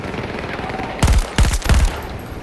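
Video game gunfire cracks out in three sharp, loud bursts of rapid automatic shots over a steady background hum, each burst short and close.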